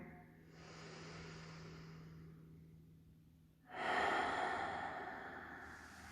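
Slow, deep yoga breathing at the close of a mellow hatha pose: a long, soft, airy exhale, a brief hush, then a fuller, louder breath drawn close to the microphone.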